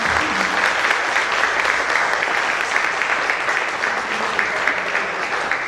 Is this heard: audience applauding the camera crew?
yes